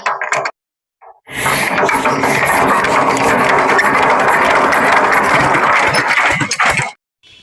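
A power tiller's engine catches after a brief stutter of short bursts, then runs as a loud, steady, close-up mechanical drone for about five and a half seconds before cutting off.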